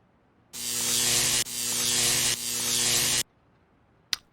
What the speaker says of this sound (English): Now that the blacksmith wasn't around anymore, I could use his welder.